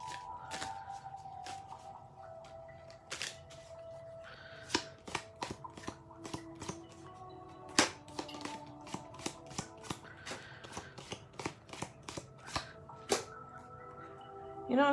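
Tarot cards being shuffled by hand, a steady run of crisp riffling and snapping taps up close, with sharper card slaps scattered throughout and no talking.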